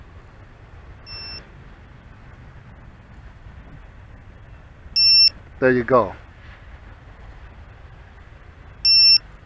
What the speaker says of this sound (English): activate its true decibel 105 dB alarm